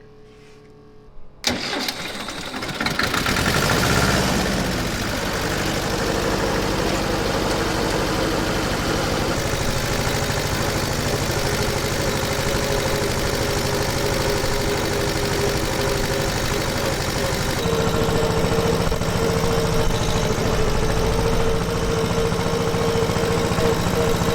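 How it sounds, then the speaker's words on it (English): An engine cranks and catches after a few seconds, then settles into a loud, steady diesel idle that rumbles on without a break. "we use the secondary key here to start this tractor."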